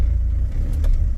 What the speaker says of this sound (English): so let's just see if it'll go into reverse. It's in reverse. If I rev it